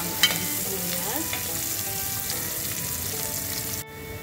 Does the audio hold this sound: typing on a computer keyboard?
no